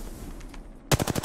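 In the Apex Legends video game, a short rapid burst of automatic gunfire cracks out loud and close after a near-quiet stretch.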